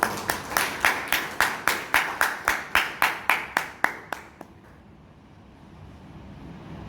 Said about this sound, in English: please big round of applause for Toastmaster Ratan